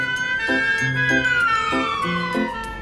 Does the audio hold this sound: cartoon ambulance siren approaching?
yes